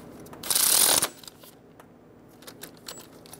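A wrench snugs a water pump bolt on a 2007-2012 Nissan Altima engine, a short dense burst of ratchet clicking up close, then scattered light metallic taps and handling noises.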